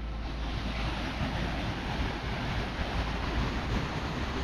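Water rushing down from the top of a crystal-clear waterfall in Canada, a dense, constant roar that fills the clip, close and loud with some wind buffeting and no voices.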